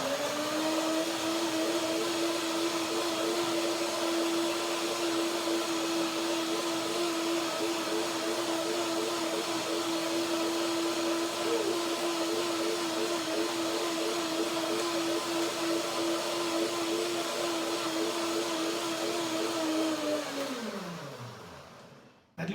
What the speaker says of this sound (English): Blender dance.